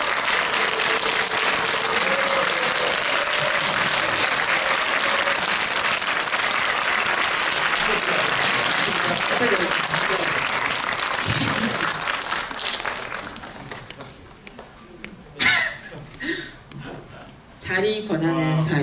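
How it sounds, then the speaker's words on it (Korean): Movie-talk audience in a Megabox Sinchon cinema claps loudly for the arriving director and actors, a dense sustained roar of applause that fades after about thirteen seconds, giving way to a host speaking into a microphone. "들어오실 때 큰 박수로 맞이해주시면 감사하겠습니다"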